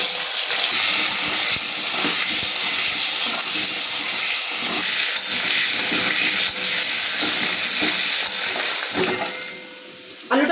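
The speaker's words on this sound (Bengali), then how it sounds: "আলুটা ভাজা হয়ে গেছে" Potatoes fry in hot oil with cumin seeds in a Bengali home kitchen, giving a continuous close sizzle and hiss that drops briefly near the end before flaring up again.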